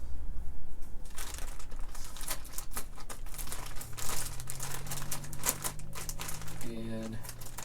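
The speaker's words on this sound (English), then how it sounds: "let's open the bag of goodies here and see." A plastic bag of guitar kit parts is opened and handled, giving loud, close crinkling and rustling bursts throughout, with a low hum and faint clicks toward the end.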